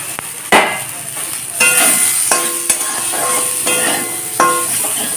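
Fried brinjal is stirred with neem leaves in a pan: steady oily sizzling under repeated scraping and knocking of a spatula against the metal, close and continuous.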